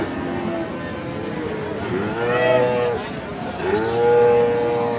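Cattle low repeatedly at the Ambari cattle market in Dinajpur, several long moos rising over a steady crowd murmur and background chatter.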